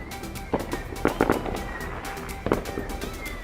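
Firecrackers go off on every side late at night, scattered bursts of sharp cracks, some in quick pairs, echoing from mid-distance over a steady background rumble.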